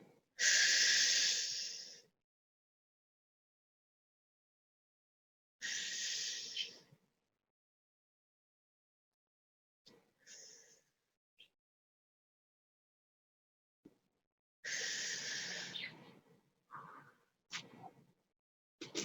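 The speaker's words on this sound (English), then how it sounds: "That way you guys don't hear me breathing the whole time." Loud breaths during a breathing exercise, a few long hissing inhales and exhales separated by silences, with shorter, softer breaths later on, close to the mic and without talk.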